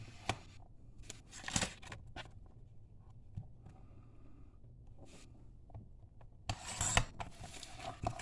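Paper for a mini album is cut at the 3-inch mark, with quiet rasping snips and slides of a blade or trimmer, two louder bursts of cutting among faint handling rustles.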